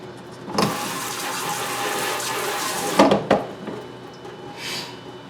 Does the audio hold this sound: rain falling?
no